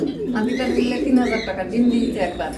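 Low, rolling coos of a female pigeon repeat close by, a soft throaty warble rising and falling over several seconds.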